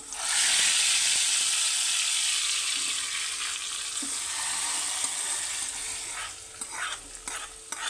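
Loud hiss and sizzle as hot tempering hits tomato dal, settling into softer bubbling and a few stirring clinks.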